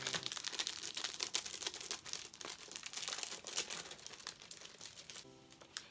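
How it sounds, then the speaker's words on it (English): A collectible Steven Universe art print pulled from its plastic sleeve, giving steady close crinkling and rustling of plastic for several seconds, with a brief quieter pause near the end. "I'm gonna take it out of the plastic"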